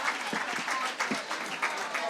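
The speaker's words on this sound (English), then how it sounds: "Let's give a round of applause to the secretary." Audience applause for Secretary Fudge at a housing justice event, a steady wash of many hands clapping at moderate volume, fairly distant, lasting the whole moment without voices over it.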